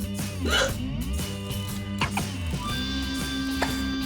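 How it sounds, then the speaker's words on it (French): A few sharp, abrupt hiccups jolt out over a steady tonal, musical background, spaced irregularly and moderately loud. "Les flux d'air rapides font alors vibrer les cordes vocales et provoquent ce son caractéristique du hoquet"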